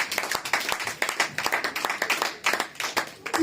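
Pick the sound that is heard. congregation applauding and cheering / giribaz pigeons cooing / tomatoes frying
congregation applauding and cheering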